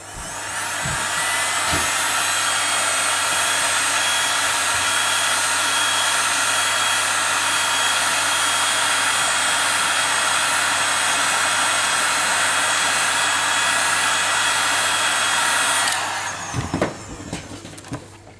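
A heat blower warms the glass of an iPad 2 to loosen it, giving a loud, steady, close airy roar that runs for about sixteen seconds and then cuts off.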